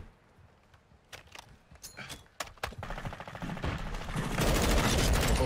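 Gunfire from a Call of Duty match: a few scattered sharp shots at first, then rapid automatic bursts that grow denser and louder toward the end, close and dominant.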